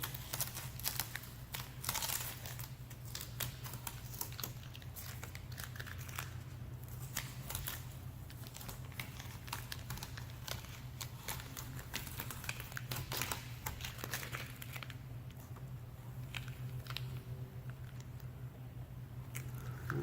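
Masking tape peeling off a freshly painted pink panel makes a continuous dry crackle and rustle, close and steady, with frequent small crinkling bursts and a low hum underneath, no talking.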